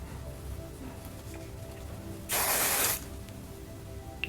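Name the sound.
hairspray sprayed lightly over hair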